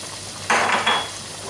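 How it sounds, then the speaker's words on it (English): Spoon scraping and clinking against a pan while stirring peppers, coriander, cumin and ginger for a jalfrezi, two short close metallic bursts over a quiet background. "Now I'm going to give this a good old stir"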